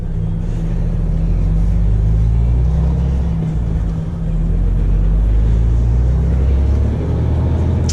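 A heavy truck pulls away onto the road after refuelling, its deep engine rumble loud and sustained with low droning tones, rising slightly as it gets moving, with a brief dip partway through.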